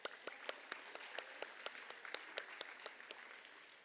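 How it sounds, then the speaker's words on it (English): An audience at a packed summit gives a round of applause, a steady wash of many hands clapping with sharp individual claps standing out, heard from a distance at moderate volume. "Let's give ourselves a round of applause for being here."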